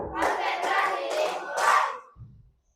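A sixth-grade class claps hands together during a concentration game in a classroom, a few rhythmic group claps in close succession, then a brief softer sound before silence.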